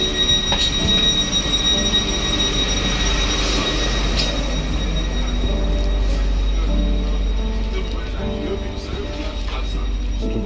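Interior of a Lagos Red Line metro rail train in motion, a steady low rumble with faint tonal hums and occasional light clinks, running throughout with no talk.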